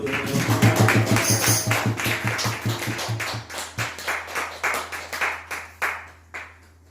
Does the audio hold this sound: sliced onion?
no